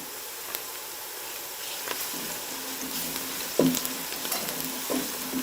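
Steady sizzling of garlic frying in hot oil with onions, with occasional stirring scrapes and clinks, close and continuous.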